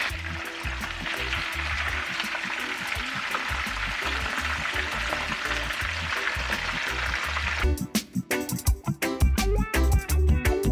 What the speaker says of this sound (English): The fish is now finished frying.